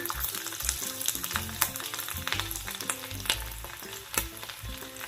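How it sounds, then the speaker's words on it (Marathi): Finely chopped ginger pieces hit hot oil in a kadai, giving a loud, continuous close sizzle with crackling pops and a low stirring rumble, no voices present. "तेल तापलं आहे याच्यामध्ये हे आल्याचे चौ बारीक तुकडे आहेत ते घालते"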